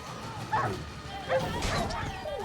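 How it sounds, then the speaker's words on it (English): Wild dogs bark and yip in The Witcher 3: Wild Hunt during a fight on the Death March difficulty. A few short, mid-distance yelps and whimpers come through a busy game soundscape, with someone talking now and then. "Get all the wild dogs taken care of, I guess"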